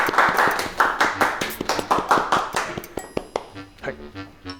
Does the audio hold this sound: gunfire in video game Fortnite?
no